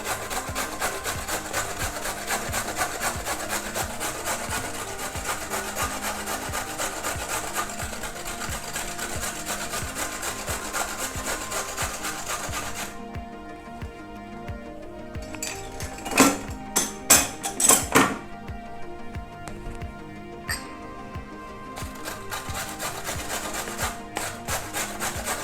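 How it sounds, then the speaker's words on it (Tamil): Carrots grated by hand, a steady continuous rasping scrape that runs densely for about half the time, then breaks into a sparser run of louder, separate strokes. "இப்போ கேரட்டையும் அதே மாதிரி துருவி வச்சுப்பேன்."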